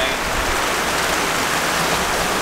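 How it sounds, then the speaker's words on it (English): Rain pours onto a sailboat during a squall at sea, a loud, dense, unbroken hiss of water with no pause, close and enveloping. "Just a little rain."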